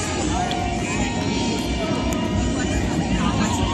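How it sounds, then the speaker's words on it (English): A plane flies overhead on a fireworks night, a steady low engine roar spread across the whole short stretch, fairly loud and unbroken. "That's obviously a plane."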